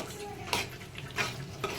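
Potato and capsicum masala curry frying in a pan, a soft low sizzle broken by three scraping stirs of a spoon against the pan's side, with no talking.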